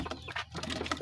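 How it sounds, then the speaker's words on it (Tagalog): A pigeon coos softly close by, a brief low murmuring call. "Itong isang kalapati natin."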